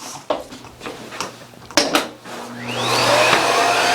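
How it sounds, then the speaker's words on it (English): A Miele Boost CX1 Cat & Dog vacuum cleaner clicks and bumps with a few handling knocks, then spins up into a rising whine and a steady close roar for the last second and a half. "I see some here, which we can vacuum again"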